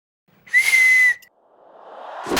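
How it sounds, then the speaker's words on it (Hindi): A watchman blows a whistle at a police station in a comedy scene. One shrill, sustained blast lasts under a second and is followed by a rising hiss of noise. "हम वॉचमैन है, सीटी बजाना हमारा आदत है"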